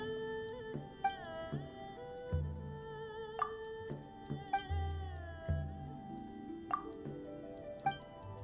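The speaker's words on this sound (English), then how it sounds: "Here, kitty, kitty, kitty." A cat meows repeatedly inside a video game during story quests, with short mews and plinking musical tones over soft game music, moderately quiet.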